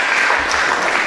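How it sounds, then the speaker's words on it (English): A seated audience claps together, a brief dense burst of many hands applauding at once, loud and even for about a second. "Oh, so clap for yourself and beautifully seated."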